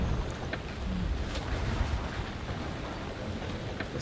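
Steady rain with a low, continuous rumble of thunder around a small ship in the video game Man of Medan, dense and even throughout, with no voices.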